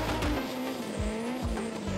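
A drag racing car does a controlled burnout at Santa Pod, its engine droning under a steady, loud squeal of spinning tires with rhythmic pulsing, all without speech.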